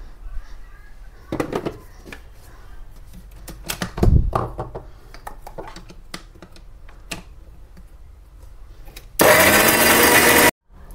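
Knocks and clatter of handling give way to a mixer grinder running on green chillies, a loud, harsh whirring burst lasting just over a second before cutting off abruptly.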